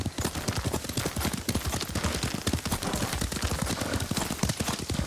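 Rapid hoofbeats of a horse being ridden in the samurai video game Ghost of Tsushima, a dense, steady clip-clop gallop that stays loud and close throughout with no pauses.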